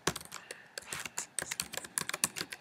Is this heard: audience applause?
no